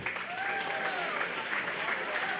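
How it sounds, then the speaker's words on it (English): Audience applause for exhibitors at a 4-H/FFA swine show: steady, close clapping for a couple of seconds, with faint tonal squeals or whistles threading through the noise. "let's give the exhibitors and the Little Oinkers a round of applause"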